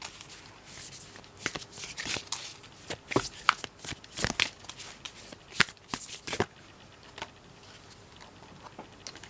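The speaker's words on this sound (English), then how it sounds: "Let's shuffle and get a card from this one." Tarot cards are shuffled by hand in quick bursts of crisp riffling and slapping for about six seconds, close and clear, then the room falls nearly quiet with a few soft taps.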